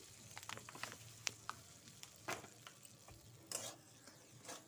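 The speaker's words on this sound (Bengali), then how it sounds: "ভালো করে একটু নাড়তে হবে" Semolina stirred with butter in a hot wok: soft, irregular scraping strokes of a spoon against the pan, fairly faint, with a light sizzle underneath and no talking.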